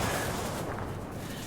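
Cannon fire from the I-215 plane in World of Warplanes, a dense, loud, continuous roar of rapid shots filling the whole moment with no talk.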